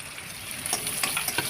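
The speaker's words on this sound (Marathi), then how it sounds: "व्यवस्थित तेलामध्ये परतून घ्यायचे कांदा त्यानंतर घालते मिरची" Onion and green chilli fry in hot oil in a pan, making a bright, continuous sizzle with a few quick stirring taps over a short stretch.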